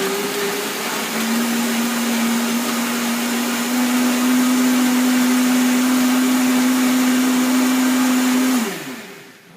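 A Vitamix blender whirs steadily as it purees a chile verde sauce, starting with a short low hum, then holding one loud, even motor tone for about eight seconds before spinning down and stopping.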